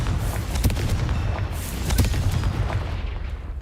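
A Confringo spell explodes in the Hogwarts Legacy video game: a dense, rumbling, booming blast with a couple of sharper bursts inside a continuous loud roar, alone, with no talk.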